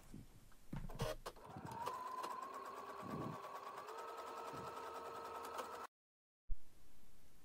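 A sewing machine runs steadily for several seconds, stitching across the corners of a pillowcase being made into a bag. It is close and fairly loud, with a brief pause and then a restart near the end.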